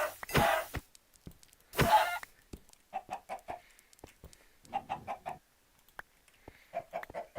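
Chickens in Minecraft, a series of short clucks and squawks, some louder bursts early then clustered clucking, near and alone.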